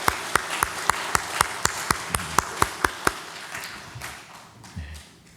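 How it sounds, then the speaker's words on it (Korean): A Korean church congregation at Sunday morning worship claps in unison, a dozen sharp, evenly spaced claps that then fade into scattered, softer noise. "우리 다시 한번 주님께 감사와 영광의 큰 박수 올려드립니다"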